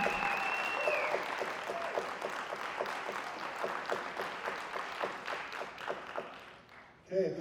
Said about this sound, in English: One more huge round of applause for our signees.